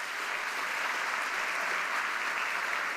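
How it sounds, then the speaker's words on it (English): A graduation ceremony crowd applauds families and friends, a dense steady wash of many hands clapping together, full and even throughout with no voices on top. "So please, let's give them a round of applause."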